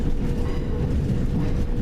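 A train pulls out of London Victoria station, its steady low rumble and rail noise rolling on continuously and fairly loud, with no talk.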